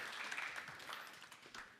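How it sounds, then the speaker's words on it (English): Brief, fairly faint audience applause greets a speaker at a Flutter developer conference exhibition stage, a soft scattered patter of clapping with no voices over it. "So give him an applause."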